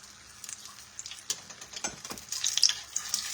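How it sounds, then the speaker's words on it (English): Food frying in vegetable oil in a home kitchen while breakfast is cooked for ten people, a steady crackling sizzle with scattered pops that grows busier toward the end, heard alone without talk. "I'm cooking them in vegetable oil."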